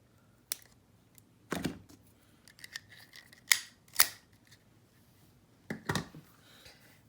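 Sharp metal scissors snip through a beaded necklace strand in a handful of crisp, separate cuts spaced irregularly, close up and fairly quiet, with no talking.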